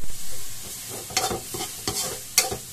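Food sizzles in a hot pan while it is stir-fried, with a steady frying hiss broken by several sharp scraping stirs from the spatula, close and fairly quiet, with no talk.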